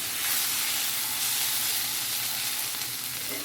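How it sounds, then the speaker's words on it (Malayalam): Egg masala with coriander leaves sautéing in a pan for mutta perattu, a loud, dense, continuous sizzle and hiss close up, steady throughout with no talking. "ഉപ്പ് നോക്കിയ ശേഷം കുറച്ച് മല്ലിയിലയും ചേർത്ത് ഒന്നുകൂടെ ഒന്ന് വഴറ്റിയെടുക്കാവുന്നതാണ്"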